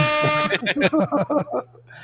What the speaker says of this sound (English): Cue up that air horn.